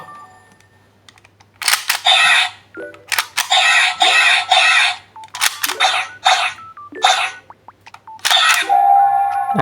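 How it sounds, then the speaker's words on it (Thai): Electronic toy transformation belt buckle effects from a Monster Raise Buckle: a series of bright, buzzy synthetic bursts and beeps in short bursts, loud and close, separated by brief pauses. "เสียงนี้ก็จะเป็นเสียงตอนที่มอนสเตอร์บัคเคิลออกมา"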